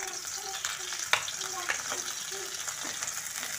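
Onions frying in hot oil in a pan for egg podimas, a soft steady sizzle with occasional crackles and a sharp pop, fairly quiet and close.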